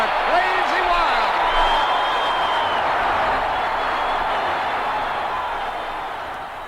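A broad roar from St. Louis Cardinals fans swells through a stadium at a 1982 game, sustained and dense, then slowly fading, with voices carrying over the din.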